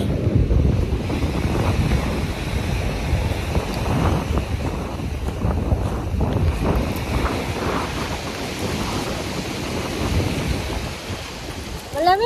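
Waves washing onto a beach in Barcelona while strong wind buffets the microphone, a loud, continuous rumbling roar with no talk.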